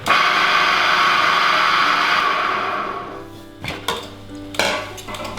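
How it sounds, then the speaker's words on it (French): Stirring curly parsley in a pan for snail soup, a loud sizzling hiss that fades, then a few sharp clinks and scrapes of a utensil against the pan, close, no talking. "Le but là c'est de bien tourner longtemps pour faire sortir le vert de la chlorophylle de votre persil"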